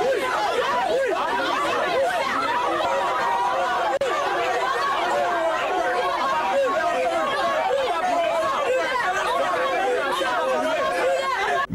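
A hostile crowd gathered outside a police station, a dense, steady wash of many overlapping agitated voices, shouts and chatter from nearby, with no single voice standing out.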